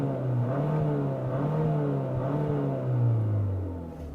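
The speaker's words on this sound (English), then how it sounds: "It's pretty sort of bland and just has a 4-cylinder sound." A 2024 Hyundai Sonata N Line four-cylinder engine revs from a stop, a mid-pitched droning hum that rises and falls in smooth sweeps, steady and fairly close, with no talk.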